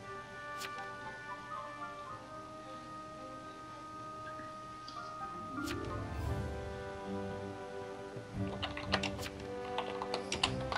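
Keys clatter on a computer keyboard in quick irregular bursts, close and fairly faint, growing busier toward the end with no talking over them.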